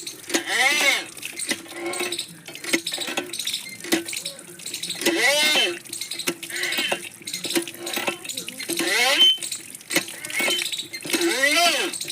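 A bowl is rinsed under a running kitchen tap while making a raw chickpea snack, with intermittent splashing and clinking in uneven bursts as someone talks alongside.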